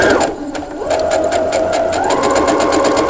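A sewing machine stitches a fabric fish in a fast, steady mechanical whir with a rapid pulsing beat and a motor tone that shifts in pitch partway through, loud and close, with no voice over it.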